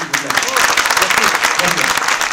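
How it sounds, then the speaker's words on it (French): An audience at a book presentation applauds for a journalist and author, a brief burst of dense clapping with a voice speaking over it. "Des applaudissements pour Tania, s'il vous plaît."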